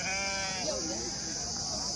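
Sheep bleat among livestock in a rural pen. One clear wavering bleat rises over a constant hissy background.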